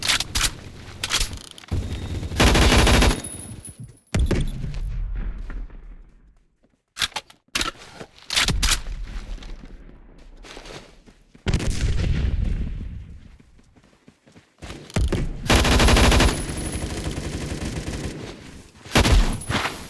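Sniper rifle shots in a Roblox first-person shooter game, loud sharp booming reports in separate bursts with quieter gaps between, sounding close and heavy, with no talking over them.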